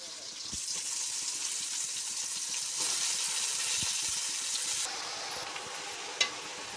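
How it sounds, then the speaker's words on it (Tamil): Spinach and onion sautéing in a pan for a palak keerai poriyal give a steady close sizzle and hiss that swells and shifts as the greens go in, with occasional stirring knocks. "இப்போ நம்ம கீரை போட்டுக்கலாம்"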